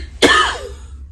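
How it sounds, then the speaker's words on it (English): A single sharp, harsh cough rings out close by, then trails off into quiet. "Still got a bit of a cough."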